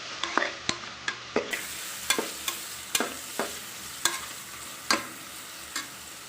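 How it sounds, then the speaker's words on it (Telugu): Turmeric and chilli powder fry in a pan for a ridge gourd curry, with a soft sizzle beneath a series of sharp, regular spoon scrapes and taps against the pan, about a dozen strokes close by. "బాగా ఫ్రై అవ్వాలి"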